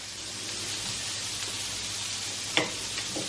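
A large lump of butter sizzles steadily in a frying pan, a continuous close hiss with a faint crackle and one small pop, no talking over it.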